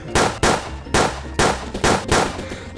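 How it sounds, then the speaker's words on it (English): Gunfire in Rec Room VR: about six loud, close shots in an uneven rhythm, each a sharp crack with a metallic ring that decays briefly before the next. "Oh, they shooting me!"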